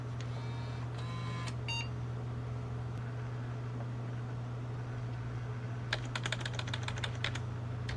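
Keys on an old computer keyboard, on a Windows 98-era machine, are tapped in a short clattering burst over a steady electrical hum, after a few electronic beeps.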